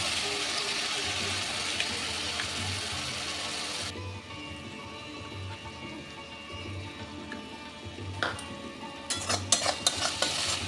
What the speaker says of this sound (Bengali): এবার পেঁয়াজটাকে একটু ভেজে নেব